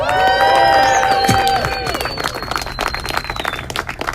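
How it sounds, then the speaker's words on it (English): A crowd applauds and cheers loudly at an outdoor political rally in Washington DC, with whistles and shouts at first, then steady clapping that slowly thins out. "Everyone give Lee a big round of applause."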